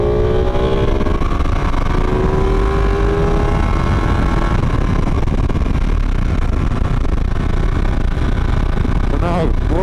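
A 2017 Ducati 959 Panigale motorcycle engine runs loud and close, its steady drone rising and falling in pitch through the revs, with faint talk mixed in beneath it.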